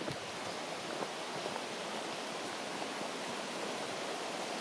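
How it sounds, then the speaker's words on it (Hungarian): Broadband rushing of a mountain stream flowing out of the Turda Gorge in Romania, slightly swollen after rain, a steady close roar of water with no breaks. "És itt a patak, ami kifolyik a hasadékból."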